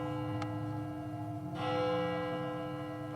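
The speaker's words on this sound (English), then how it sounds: "The bell invites me." A church bell rings out during a live stage performance of Macbeth, its steady, sustained resonant tone filling the theatre with a strong second stroke swelling partway through.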